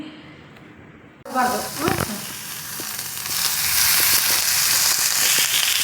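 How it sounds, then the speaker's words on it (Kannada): Onion, capsicum and paneer cubes hit a hot pan after a quiet start, bursting into a loud sizzle that swells into a dense, steady frying hiss, with a brief voice near the start. "ಪನ್ನೀರ್ ಒಂದು ಕಟ್ ಮಾಡ್ಕೊಂಡು ಈಗ ನಾ ಮಾಡ್ತೇನೆ ಅದೊಂದು ಫ್ರೈ ಮಾಡ್ಕೊತೀನಿ"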